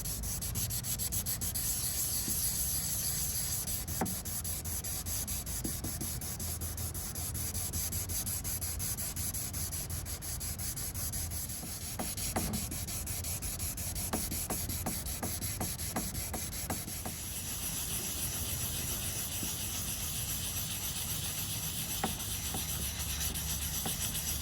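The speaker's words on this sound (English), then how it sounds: "I've done a little bit more on the sanding." Hand sanding of a Mk1 Ford Focus ST170 headlight lens with fine-grit paper, a continuous close scratchy rubbing of steady back-and-forth strokes that runs alone without talk.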